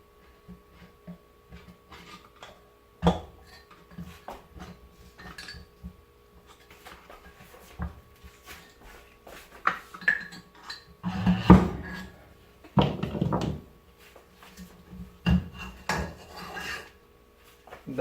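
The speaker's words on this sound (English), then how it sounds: "Now we can pry the case." Metal parts of an NP231 transfer case knock, scrape and clink while the case is pried open, in irregular close taps with a few louder clattering bursts near the end, no speech.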